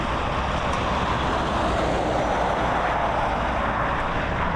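An Emirates Boeing 777 taxis past at Dublin Airport, a loud, steady broadband engine roar close by with no change in level and no voices.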